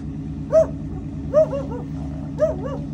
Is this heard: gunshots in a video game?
no